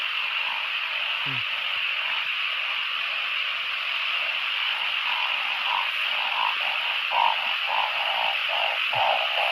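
Narrow-mouthed frogs (ung khom) calling loudly at the end of the rainy season in Thailand, a steady chorus of repeated croaks over a constant insect-like drone, fairly close.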